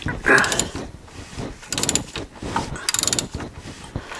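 A Volkswagen Jetta engine is turned over slowly by hand, its cams, valves and pistons cycling with irregular mechanical clicks, creaks and ratcheting bursts, close and moderately loud.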